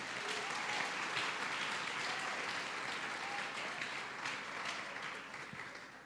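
Congregation applause during a family church service, steady sustained clapping filling the room, somewhat distant and even in level, with no talking over it.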